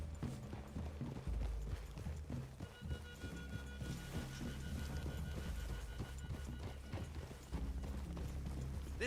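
Horse hooves clip-clop steadily in Red Dead Redemption 2, several horses moving together at a walk under a constant bed of rain and outdoor noise, fairly loud and close.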